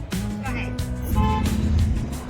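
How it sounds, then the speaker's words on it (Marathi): A car sets off along a rural road near Baramati, its low, steady engine rumble swelling slightly under a voice. "गाडी निघाली थेट"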